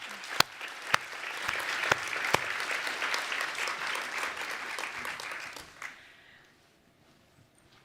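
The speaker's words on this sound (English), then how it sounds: "perhaps we can give them a little bit of applause for encouragement" An audience at a library panel event applauds steadily for several seconds, a few sharp claps standing out near the start, before the clapping fades quickly into quiet.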